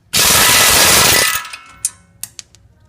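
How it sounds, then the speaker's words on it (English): Impact wrench with a 19 mm socket spinning off a tie rod end bolt on a G35/350Z front suspension: a loud, steady whir for about a second, then winding down, followed by a few sharp metallic clanks. "now we're going to use our 19 millimeter socket to take that tie rod end bolt off"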